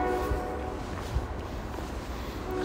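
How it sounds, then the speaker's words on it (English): A train rumbles past at a distance, a low, steady mechanical drone that stays in the background throughout with a couple of faint thumps and no voices. "So you're going to hear a train."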